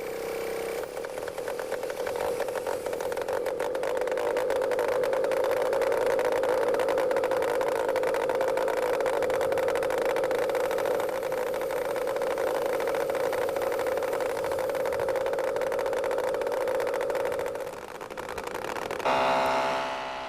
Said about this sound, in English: Its tiny piston engine is started by an ordinary power drill.